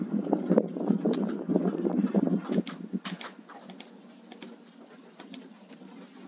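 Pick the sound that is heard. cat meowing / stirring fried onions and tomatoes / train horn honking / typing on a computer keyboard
typing on a computer keyboard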